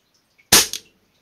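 A single sharp shot from a Crosman 600 air pistol gives a close, abrupt crack, followed by a quick second pop as the sound dies away over a fraction of a second.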